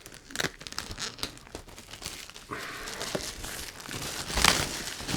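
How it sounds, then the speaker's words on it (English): Cellophane wrapping crinkles and tears as it is stripped off a board game box, close and scratchy, with a sharper rip toward the end. "so cellophane off"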